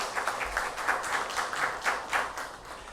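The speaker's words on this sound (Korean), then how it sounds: "우리 따뜻한 마음으로 환영의 박수 보내드리도록 하겠습니다" A church congregation at a Sunday worship service claps in welcome, a steady, moderately close patter of many hands with soft, regular pulses and no talk over it.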